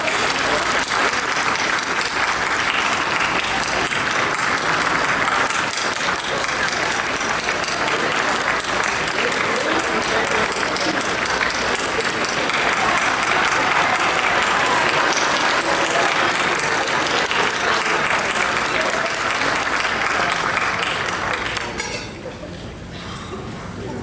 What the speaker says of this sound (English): stand up, big round of applause